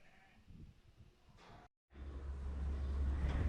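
Unbred ewes out on pasture at a sheep farm bleating, a couple of clear calls nearby with a short break and rising ambient rumble afterward.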